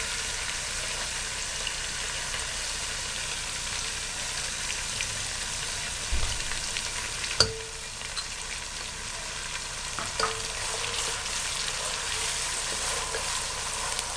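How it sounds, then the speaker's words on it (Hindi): Onions fry in about one and a half cups of hot oil in a pan, a steady bright sizzle running throughout, with a few soft clinks and stirring knocks near the middle. "प्याज को ब्राउन नहीं करना, बस हल्का सा फ्राई करना है"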